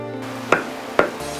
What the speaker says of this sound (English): I already hear the sound of chopping wood.